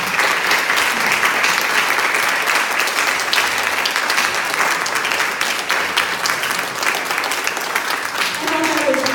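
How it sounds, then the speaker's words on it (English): A steady, dense round of audience applause for the candidates at a Sierra Club political forum in Barre, Vermont, sustained at full strength throughout, with a voice starting to speak near the end. "So let's give them, all of these candidates, a round of applause."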